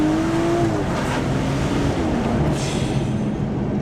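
A BMW 135i with a stage 2 tune, over 440 hp, accelerating hard with a loud, steady, close engine roar that holds for several seconds and shows a slight rising note early on.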